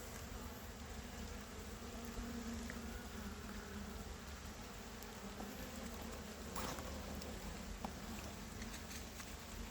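Honey bees hum in a dense, steady drone around an open hive, a soft continuous buzz, moderately close, with occasional faint taps and clicks from hive handling.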